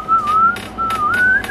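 A person whistles in imitation of the squeal a kid makes blowing through a plastic straw, a thin sustained tone wavering up and down over about a second and a half, loud and close with no talking.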